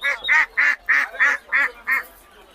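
Seven loud nasal quacks in an even rhythm from a nearby duck at a poultry market, clear and close with little background.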